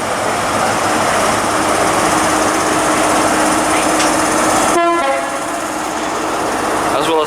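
Class 43 HST power car 43036 departs Reading station on the Great Western Main Line, a loud, steady engine roar with broadband rumble; a brief horn-like tonal burst cuts in near the end as the sound shifts.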